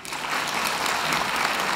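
An audience applauds at the closing ceremony of the 9th China-ASEAN Music Week at Guangxi Arts University, a dense, even wash of clapping that holds steady for the whole stretch.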